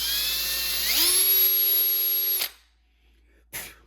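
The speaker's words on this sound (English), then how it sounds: "I got a little copper brush there that I use on some guns. Just gonna slowly clean that thing out." Small copper brush spinning on a rotary tool inside the corroded fuel seat of a Yamaha Warrior 350 ATV: a steady high whine ramps up in pitch, runs for about two seconds, then cuts off, followed by a brief burst of noise.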